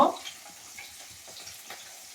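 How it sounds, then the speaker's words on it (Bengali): Panch phoron five-spice seeds frying in oil in a wok, a soft steady sizzle with faint crackles after a brief louder clink at the start, no talking. "কড়াতের মধ্যে পাঁচফোড়ন দেব"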